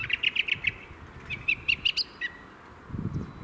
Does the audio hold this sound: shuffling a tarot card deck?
no